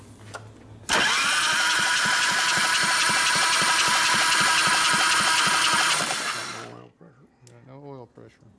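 A 93ci stroker panhead engine in a 1989 Harley Softail is spun over hard for about five seconds, a loud, steady, rapidly pulsing mechanical churn that stops abruptly, followed by quiet shop noise and a voice.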